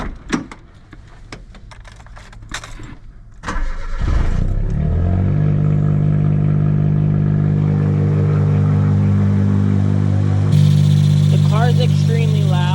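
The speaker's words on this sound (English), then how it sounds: "Now let's start the Cappuccino." A Suzuki Cappuccino's engine cranks after some clunks and a door-like thud, fires up and runs loud and close with a steady droning idle that rises slightly near the end.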